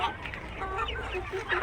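Chickens and roosters of a mixed flock cluck and call on a commercial egg-laying poultry farm, with several overlapping close clucks in a steady, busy stream.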